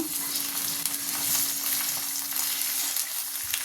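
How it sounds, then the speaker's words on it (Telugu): Chopped tomatoes fry in hot oil in a pan for a paneer masala curry, a steady close sizzle with faint stirring scrapes throughout and no talking. "ఇప్పుడు టమాటాలు టమాటాలు కూడా కొంచెం మెత్తగా అయ్యేలాగా నూనెలో ఫ్రై చేసుకుందాం"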